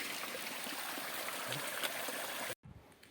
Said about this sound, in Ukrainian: Такий невеличкий струмочок по маршруту.